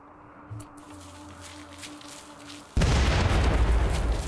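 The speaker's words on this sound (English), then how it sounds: "That looks like a flashbang." Flashbang explosion in a video game: after quiet rumbling and a low hum, a sudden loud blast hits and gives way to a sustained roaring, hissing wash that stays loud to the end.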